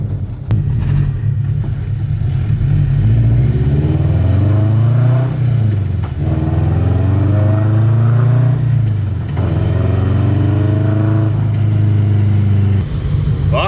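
A Toyota GT86 engine drones and revs hard from inside the car, rising in pitch several times through gear changes with brief drops between pulls, a loud steady rumble throughout.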